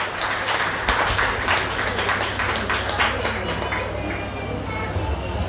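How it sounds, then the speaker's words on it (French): An audience at an outdoor family celebration hosted by the Robert municipal social services applauds the families, lively clapping rising in clustered bursts over a low steady hum, a voice speaking along. "Alors on applaudit les familles. Un petit peu plus fort, un petit peu plus fort."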